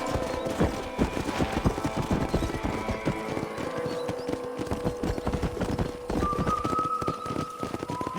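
Rapid hoofbeats of horses in the video game Red Dead Redemption clatter in a steady clip-clop rhythm, close and continuous, with faint tonal game sounds layered in the background.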